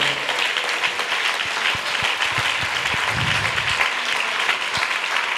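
A church congregation applauds a sermon on Jesus Christ, with steady, dense clapping filling the room at an even level from start to finish.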